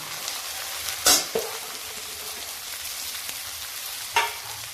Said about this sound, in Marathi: आता त्यामध्ये मी ही भेंडी टाकते